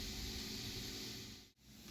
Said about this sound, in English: I will let it sizzle down just a little bit. Sizzle, sizzle, sizzle.